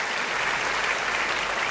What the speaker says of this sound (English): Seriously, give him a round of applause.